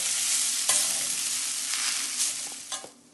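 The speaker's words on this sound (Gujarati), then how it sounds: "આવી રીતે એને થોડી વાર માટે હલાવવા થવાનું છે." Rice stirred in a hot pan for spicy Gujarati vagharelo bhaat fried rice sizzles steadily, with a few sharp scraping strokes of the spoon over about three seconds.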